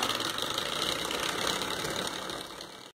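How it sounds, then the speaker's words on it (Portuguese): An ordinary electric hand mixer, not a stand mixer, beats banana cake batter in a continuous, even motor whir with a dense hum, close and steady for about three seconds before tapering off at the end. "A gente vai bater aqui uns 2, 3 minutinhos, bem batido, dependendo aí da velocidade, da força da sua batedeira"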